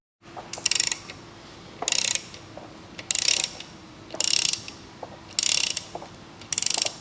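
Ratchet wrench cranking main bearing cap bolts down onto a Holden 308 V8 engine block, five or six close, loud bursts of rapid clicking separated by short pauses.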